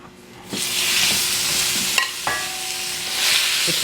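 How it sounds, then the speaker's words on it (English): Meat, onions and shiitake stir-fried in sesame oil give a steady loud sizzle, with a couple of sharp scraping clacks of the utensil partway through, up close and without talking. "Like a stir fry."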